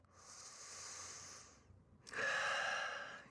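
Deep breathing during a beginner yoga flow: a long, soft airy inhale of about 1.7 seconds, a brief pause, then a louder, fuller breath, close and alone with no talk.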